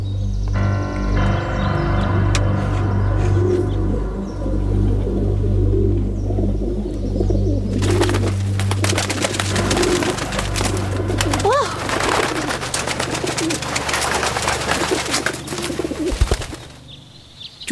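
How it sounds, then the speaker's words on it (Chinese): Pigeons coo and flutter as a flock is released, soft repeated calls over a low steady hum, with a burst of busy wing-like rustling in the later part. "到时间该放鸽子了。"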